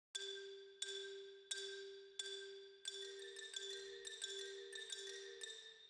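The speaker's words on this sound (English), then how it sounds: "Xylophone playing in octaves." A xylophone strikes bright notes in octaves, each hit ringing out clearly, spaced at first and then coming faster in a denser run, quiet and clean.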